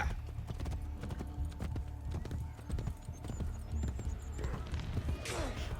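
A horse in the video game Assassin's Creed Brotherhood, hooves clip-clopping in a quick steady rhythm close by, ending in a short whinny.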